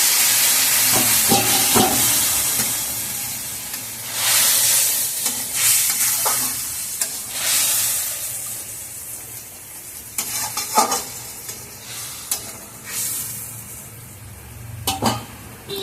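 Hilsa fish cooking in a pan after water is poured in, with steady sizzling and hissing steam under repeated stirring scrapes and occasional clinks of utensil on pot, fairly close and continuous with no talking.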